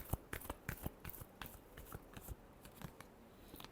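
Tarot cards shuffled by hand in a quiet room, a run of soft papery flicks and taps in an uneven rhythm, close but faint, with no talking.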